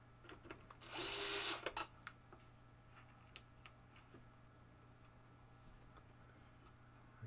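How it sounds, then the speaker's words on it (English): A 1975 Bally Bow and Arrow pinball playfield gets a screw driven in with one short, loud whir of a power driver lasting under a second. Faint ticks and clicks follow in a quiet room. "And now I can start putting the screws back in."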